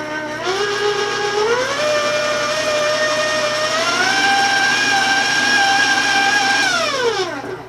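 An electric mixer beating vanilla into brown sugar cookie batter, a loud close whine that ramps up in pitch, holds at two speeds, then winds down as it stops.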